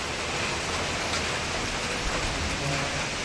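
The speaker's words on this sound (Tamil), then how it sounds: "மழை பெய்யுறது?" Steady rain falling in the Theni area on a day motorbike trip, a dense, even hiss that holds unbroken and fairly close for the whole stretch, with no voices over it.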